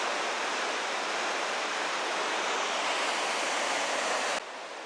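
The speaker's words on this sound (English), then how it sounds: "There we have another area where the water is just crashing below there" Water in Johnston Canyon, Banff National Park, crashes and rushes below a trail, a steady, loud broadband roar that continues unbroken and drops slightly in level near the end.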